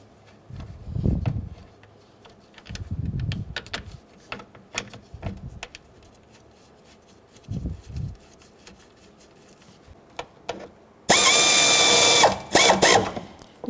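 A ratchet drives radiator mounting bolts on a 1997–2004 Dodge Dakota, giving several short bursts of close clicking with pauses between. A louder, denser run of ratcheting comes near the end.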